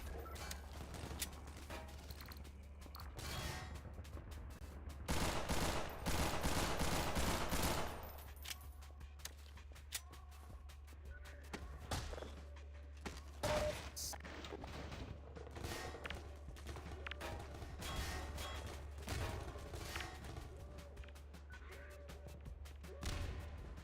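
Gunfire in the Black Ops zombies map Terminus, with bursts of rapid automatic shots and a dense heavy barrage near the start, over a constant low game drone.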